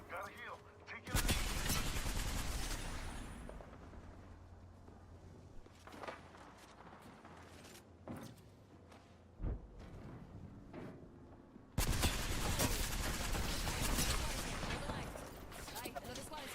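Enemy gunfire in a video game, loud dense bursts of rapid shots opening and closing the stretch, with scattered single shots and footsteps between, and a voice talking over parts of it.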